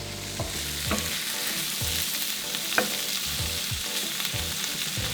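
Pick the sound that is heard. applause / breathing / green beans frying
green beans frying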